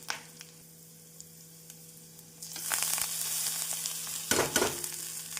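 Raw plantain pieces dropped into hot oil tempered with green or dried chilies, sizzling loudly after a quiet start, with a few sharp stirring scrapes near the end.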